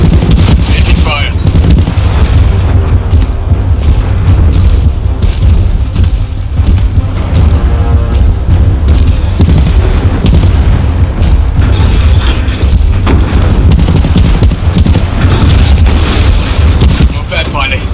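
Video game Titanfall 2: sustained, loud gunfire and booming explosions roll on without a break, with a voice speaking over the battle.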